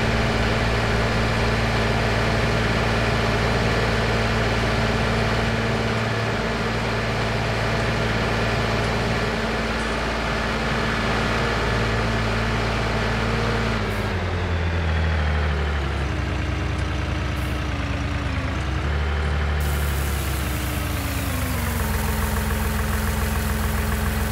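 Tractor engine idling in Farming Simulator 19, a steady low droning rumble with a constant hum that holds for the whole stretch, shifting pitch slightly partway through as the engine note changes, with no talk.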